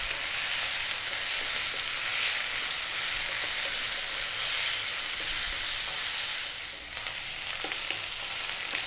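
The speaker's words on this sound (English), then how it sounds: "we're going to stir fry this around in the pan for 4 to 5 minutes" Vegetables and potatoes stir-fried in a pan for a vegan vegetable curry: a continuous, even sizzle of hot oil with faint scraping as the pieces are moved around, close and steady throughout.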